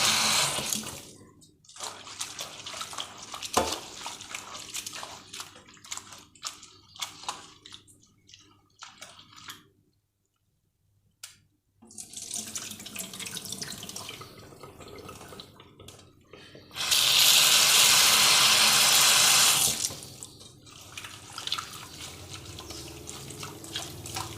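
Water runs and splashes in a kitchen while a northern Thai stir-fry is being cooked. It trickles and drips unevenly and pauses once, then gives a loud, steady rush of pouring near the end.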